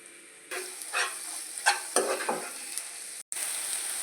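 Masala fries in a pan for a spiced boiled egg fry, a bright close sizzle with repeated scraping stirs in bursts, a brief cut of silence near the end, then the sizzle resumes.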